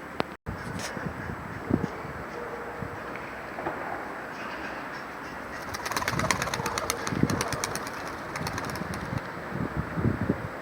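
Pigeons coo and flutter inside a coop, soft low calls scattered over steady wind noise, with a denser burst of wing flapping and rustle in the middle of the recording; no one speaks.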